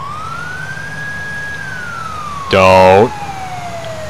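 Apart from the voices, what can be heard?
ambulance siren in the video game GTA IV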